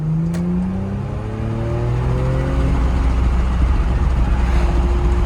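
A 2017 Porsche Macan S accelerates hard, its engine note climbing loudly and close through rising tones, dropping at a gear change and then pulling on steadily.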